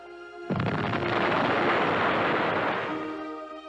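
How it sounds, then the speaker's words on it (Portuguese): A German V1 flying bomb explodes in a sudden loud blast that swells into a long, dense roar and rumble, slowly fading over a few seconds. "daí, a cerca de 15 segundos, vinha a grande explosão"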